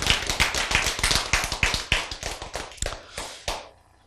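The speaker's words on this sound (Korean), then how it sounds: "박수." Steady rhythmic hand claps at a Korean church sermon, about a dozen sharp, evenly spaced slaps that loosen and thin out before stopping, with no talking over them.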